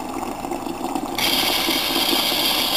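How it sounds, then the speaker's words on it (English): Water rushing into an American Metal Ware ICB-400 double coffee brewer as it refills itself, a soft trickle that suddenly swells into a steady hissing gush, close and with no talk. "You can hear the water going into it."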